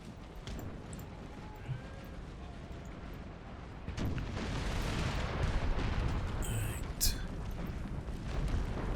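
Cannon artillery booming across a battlefield in Empire: Total War, distant rumbling volleys under a wash of crowd and battle noise, with someone talking over it.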